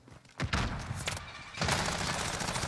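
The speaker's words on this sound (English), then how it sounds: "Stun grenade out." A stun grenade detonates in a competitive online shooter, a sharp blast near the half-second mark followed by a second burst and then a sustained roar of noisy gunfire and chaos that fills the rest of the moment.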